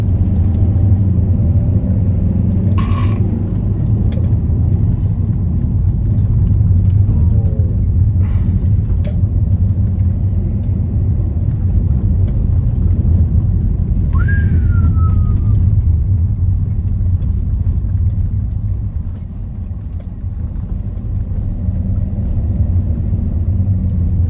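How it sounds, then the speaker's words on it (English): A boosted Mercedes W203 with a turbocharged M104 engine drives a pothole-ridden South African highway, giving a steady loud low road rumble broken by a few sharp jolts as the tyres hit holes. "I'm on the highway. This is potholes."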